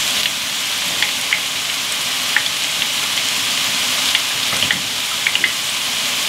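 Soffritto sizzles and crackles in a pan, a loud, steady frying hiss with small scattered pops throughout, close up and with no talking.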